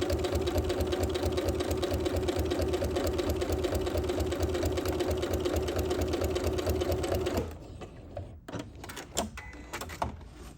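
A sewing machine fitted with a walking foot stitches quilting in a fast, steady, close-up mechanical whir for about seven seconds, then stops, leaving a few faint clicks and handling sounds.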